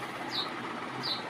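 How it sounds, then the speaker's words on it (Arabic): Sparrows chirp in an apartment room, two short, faint chirps about a second apart over a quiet indoor hum. "سامعين صوت العصافير؟"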